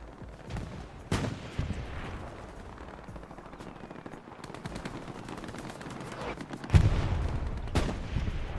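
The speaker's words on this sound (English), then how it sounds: "Sniper team trying to evade that MG fire." Machine gun fire in the video game Hell Let Loose on the El Alamein map: a steady rattle of distant bursts under a continuous battlefield rumble, with a few louder sharp shots and one heavy thump.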